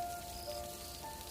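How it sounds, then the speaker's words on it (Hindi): Heavy night rain pours steadily on a deserted roadside, a dense continuous hiss of drops with no voices. "ऊपर से ये तेज़ बारिश जैसे पूरी रात थमने का नाम ही नहीं ले रही।"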